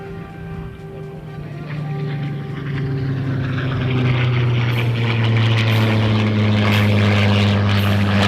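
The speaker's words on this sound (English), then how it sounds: "looks like we're going to get another topside pass by that beautiful Spitfire from our right." A Spitfire propeller aircraft makes a topside pass at an airshow in London, Ontario, its engine drone building steadily louder with a rising, throbbing hum that stays continuous throughout.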